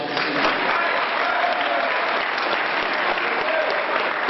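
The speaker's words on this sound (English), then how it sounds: "As you applaud, you take away from the mayor's time to speak." Audience at a Brockton NAACP mayoral debate breaks into dense, continuous applause, a loud even roar of many hands clapping at once with no pauses.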